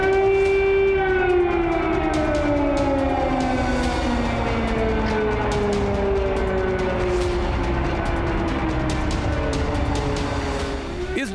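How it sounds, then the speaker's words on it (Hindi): A loud civil defense air raid siren sounds during a mock drill in India, wailing continuously, its pitch slowly sliding downward in a long sustained tone with no one speaking. "इस दौरान कुछ उसी तरह का सायरन बजेगा जैसा यूक्रेन में तब बजता है"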